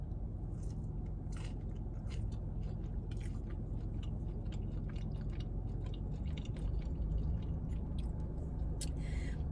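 Close, steady chewing of a bite of Chipotle garlic guajillo steak, with soft wet crunching and mouth sounds continuing throughout and no talk.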